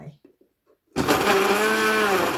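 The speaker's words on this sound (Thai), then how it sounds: "แล้วเราก็ปั่น กินกากอะค่ะ" Blender blending carrots with bottled orange juice, kicking in abruptly after brief soft sounds and then running loud and steady with a whirring, rising tone to the end.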